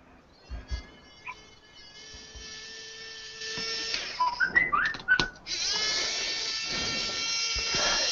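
A high, steady whistling tone from a Samsung camera sounds through the background of a gadget teardown, broken by faint clicks and short chirping bursts near the middle and continuing at moderate level.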